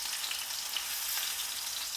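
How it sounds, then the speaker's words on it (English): Eggplant frying in a pan, giving a steady, dense hiss and crackle of sizzling oil that holds even throughout, close and moderately loud, with no voices. "Frying some eggplant."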